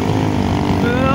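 A motorcycle engine runs loud and close in a continuous throaty drone on a road in Hyderabad.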